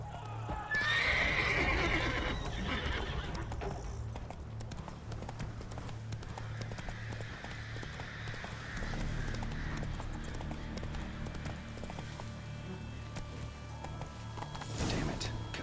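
Hooves clip-clop steadily as a horse gallops in The Witcher 3 video game, with a loud neigh near the start and continuous rhythmic hoofbeats and ambient game noise throughout.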